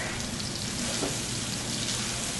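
Thick salmon fillets seasoned with dried fennel seed fry in a pan, giving a steady, even sizzle that hisses on without a break.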